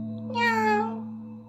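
A single cat's meow, drawn out and rising then falling, heard close and clear against a steady low background hum.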